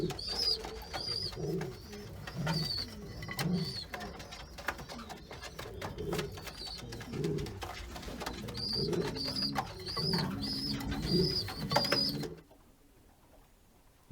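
Racing pigeons coo repeatedly in a loft, soft throaty calls recurring through a steady murmur of birds and faint wingbeats before fading at the end.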